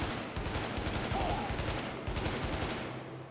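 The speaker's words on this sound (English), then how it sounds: "I don't know why I'm using this SMG." SMG gunfire in the video game Tom Clancy's The Division fires in fast, continuous automatic bursts, loud and close, with brief gaps between strings of shots.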